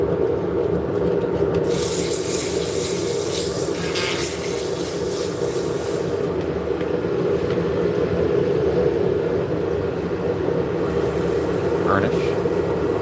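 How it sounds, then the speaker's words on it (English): Wood being sanded on a lathe while the piece spins, a continuous close-up rubbing hiss that rises and falls in brightness over several strokes, with no talk over it. "Sand off any raised grain."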